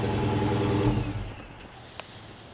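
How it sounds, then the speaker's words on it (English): 2016 Dodge Charger SRT Hellcat with a 707 hp engine, heard as a loud, deep engine drone close by that fades to a quieter low rumble within about two seconds. "you want to hear the motor running"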